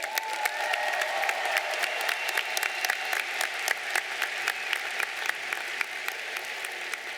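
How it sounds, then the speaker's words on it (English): Sustained applause fills a Portland State University commencement hall, a broad crowd clapping steadily and evenly from start to finish with no speech over it. "give yourselves one more big round of applause"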